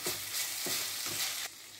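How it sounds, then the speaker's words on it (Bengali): Fried egg being stir-fried with vegetables in a pan: close, continuous sizzling with three rhythmic scraping stirs before the sound drops off, no talking. "ভাজা ডিমটা দিয়ে ভালো করে সব ভেজিটেবলসের সঙ্গে আমি মিশিয়ে নিচ্ছি"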